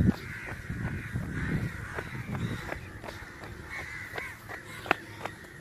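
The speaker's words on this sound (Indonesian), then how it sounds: "Gagak di sini masih banyak guys." Crows caw repeatedly overhead during an outdoor jog, a series of harsh calls at an uneven rhythm over steady background noise and footsteps.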